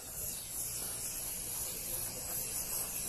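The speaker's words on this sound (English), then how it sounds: "we decorate it with a little bit of spray sugar" Spray sugar in Panthers colors is sprayed onto a lemon pound cake as a steady, even hiss that runs throughout, alone and fairly close.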